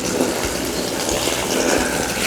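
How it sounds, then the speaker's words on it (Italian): Water gushes steadily from a hose into a swimming pool, a broad continuous rushing splash that stays even and close for the whole stretch with no talking. "partiamo a riempire la piscina"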